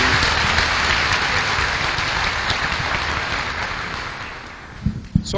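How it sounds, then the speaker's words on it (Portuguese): A church congregation at a Catholic gathering in Gravatá applauds in a dense, rain-like wash of clapping that gradually fades, ending in a few scattered claps and faint room noise. "Vamos aplaudir isso?"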